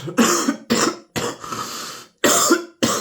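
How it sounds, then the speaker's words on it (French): A person coughing several times in close succession, harsh bursts with short pauses, near and fairly loud. "Excusez-moi, j'ai toussé."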